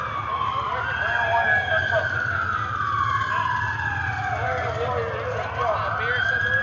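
Emergency vehicle sirens wail and sweep up and down as they pass at an outdoor Trump rally in Tulsa, Oklahoma, loud and sustained over a crowd murmur with a person talking underneath.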